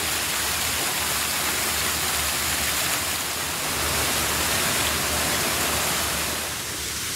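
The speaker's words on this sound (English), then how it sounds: "There's the waterfall you can hear." A steady, full rush of falling water surrounds the listener, an even indoor waterfall roar at Kuala Lumpur International Airport, with no voices.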